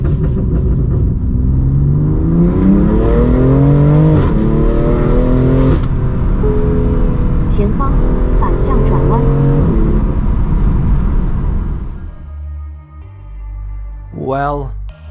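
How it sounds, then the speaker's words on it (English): BMW M2 Competition engine with an RES cat-back exhaust revving loud and close, climbing and falling in sustained pulls for about twelve seconds, then dropping to a lower rumble with a final short rev. "I'm not a fan of driving a car without engine noise"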